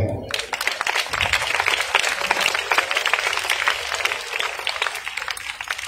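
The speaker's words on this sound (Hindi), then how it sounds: "तो जनाब मुइज़ शाह के लिए भरपूर तालियां" A crowd at a Pakistani charity welfare event breaks into loud, steady applause, dense clapping that fills the hall evenly for several seconds.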